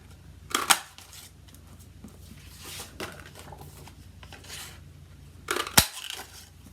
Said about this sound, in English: I'm going to punch out 3 2 3/8 inch diameter circles.